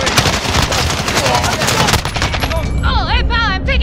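Rapid, loud automatic gunfire from the video game Call of Duty: Modern Warfare rattles continuously for about two seconds, then gives way to shorter bursts and game sound effects.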